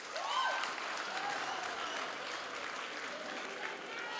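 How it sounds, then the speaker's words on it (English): Applause for lecturers at a university graduation ceremony, a large crowd clapping steadily throughout, heard from a distance as a dense, even patter. "Can you clap hands for your lecturers?"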